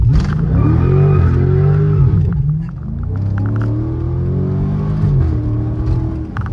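A Dodge 392 HEMI V8 car engine revs hard and loud, its pitch climbing and falling in two long surges before settling into a steady roar.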